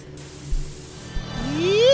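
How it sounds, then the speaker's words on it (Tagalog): A short hissing spray of perfume in the video game Resident Evil Revelations, a bright burst of air that fades over a second, followed by a rising synthetic tone, with low game ambience underneath. "Nag-spray ng pabango."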